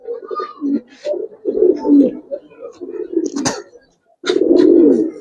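Giribaz pigeons coo in low, throaty bursts, several rounds rising and falling close by, with a short quiet gap before a louder, fuller stretch of cooing at the end.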